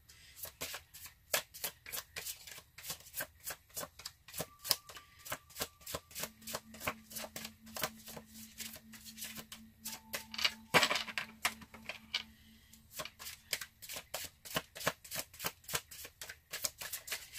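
Rapid flurries of crisp card riffles repeat in bursts as a sticky tarot deck is shuffled again and again, close up, with a brief faint tone in the middle.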